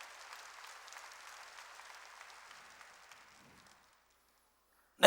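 Congregation at a church service applauds in a steady patter of many hands, moderately distant, fading out after about three and a half seconds into silence before a sharp burst at the very end.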